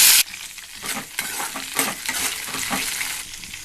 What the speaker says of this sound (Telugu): ఆయిల్లో 1 కప్ ఆఫ్ పచ్చిమిర్చి వేసుకోవాలి.